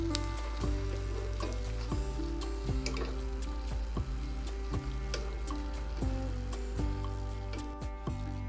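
Spicy shankarpali frying in hot oil, a steady soft sizzle and bubbling with occasional drips and light clinks, close and continuous throughout.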